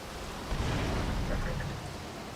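Steady rain falling in a GTA video game, a dense even hiss of downpour that swells slightly after the first half second and holds alone without voices.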